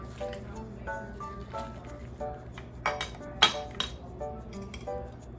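Spoon scooping baked mac and cheese from a dish, producing light clinks and scrapes against the dish with a few sharper knocks, close and fairly quiet, over faint background noise.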